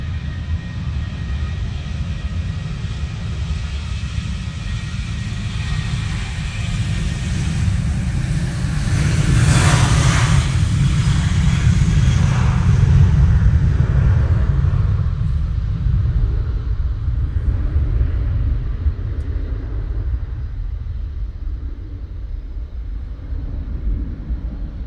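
A Ryanair jet inbound from Brussels lands at a wet, windy Manchester Airport, a broad steady roar with heavy wind rumble that swells near the middle and slowly fades, no voices present.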